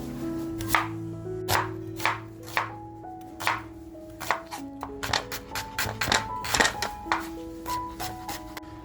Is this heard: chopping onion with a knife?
yes